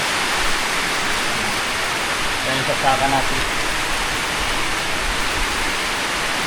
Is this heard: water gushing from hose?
yes